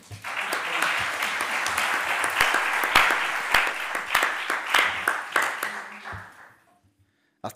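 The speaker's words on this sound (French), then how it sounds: "On peut l'applaudir." An audience at an institutional presentation applauds Rémi, the master of ceremonies, with a full crowd clapping at moderate distance for about six seconds before it fades out into silence.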